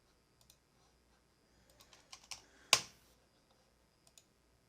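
Sparse keystrokes on a computer keyboard at a desk, a few scattered soft taps building to one sharp, louder clack, then a couple of faint taps, with no one talking.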